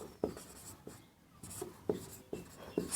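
Writing during a geography lesson on Asia, a pen or marker scratching out a few short strokes with soft taps between them, close and fairly quiet with no talk over it.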